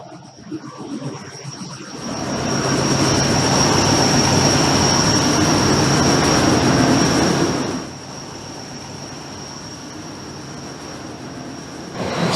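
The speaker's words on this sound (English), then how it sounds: "So our engine is actually located in this enclosure" Natural gas cogeneration engine running inside its enclosure, a steady broadband mechanical roar with a high whine that swells loud from about two seconds, then drops to a lower constant drone as the view shifts.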